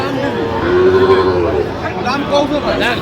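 A Sahiwal bull calf moos amid the bustle of a Dhaka cattle market, one drawn low call rising above steady crowd chatter, with people talking nearby throughout.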